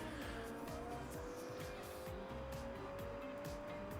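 Tires squeal and skid on a racing car in Forza Horizon 2, a long steady screech over a loud continuous engine roar, up close and without pause.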